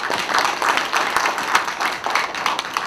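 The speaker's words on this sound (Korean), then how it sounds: "출판 기념식 행사를 박수로 시작하도록 하겠습니다." Audience applause opening a book launch ceremony, a dense wash of many hands clapping together, steady and fairly loud with no talk.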